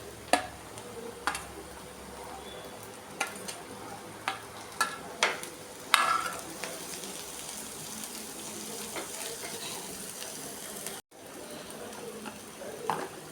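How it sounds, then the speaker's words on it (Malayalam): Crushed ginger, garlic and onions sautéing in a pan, a continuous low sizzle broken by a series of sharp spoon taps and scrapes, with a brief dropout near the end. "ഇഞ്ചി വെളുത്തുള്ളി സവാള ചെറിയ ഉള്ളി ഇത്രയും ഒന്ന് നന്നായിട്ട് വഴണ്ട് വന്നതിന് ശേഷം"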